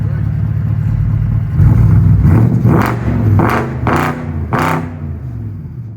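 A BMW muscle car with a 350 bhp V8 starts and idles with a low rumble, then gets a few sharp revs that rise and fall at night, with some talking alongside.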